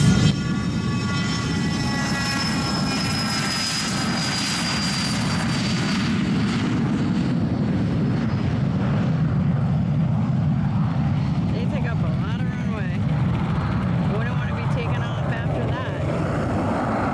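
Jet aircraft at a fly-in crowd event in Zephyrhills, a steady loud engine roar holding for the whole stretch, with a whining tone drifting across it and a crowd's background murmur.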